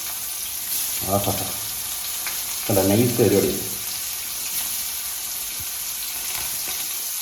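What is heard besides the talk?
pallathi fish frying in oil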